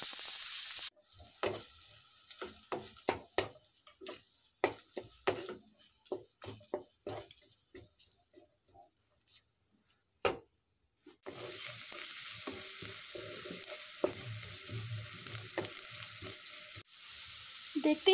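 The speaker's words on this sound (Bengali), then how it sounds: "এবার এতে আমি দিয়ে দেব পেঁয়াজ কুচি, দিয়ে এটাকে আমি ভালো করে ভেজে নেব।" Chopped onions frying in hot oil after tempering spices for a Bengali egg curry, with irregular stirring clatter and scraping, then a louder steady sizzle that continues to the end.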